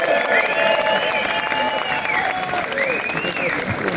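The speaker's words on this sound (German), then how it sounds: "ein Ding Applaus noch für Hartmut." A stage audience applauds and cheers loudly for a man named Hartmut; steady clapping runs throughout, with whistle-like tones and voices over it.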